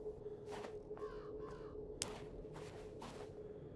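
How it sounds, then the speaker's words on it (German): Crows caw in a video game set in a snowy winter, about five or six harsh calls spaced roughly half a second apart over a quiet hum, moderately distant. "Birds."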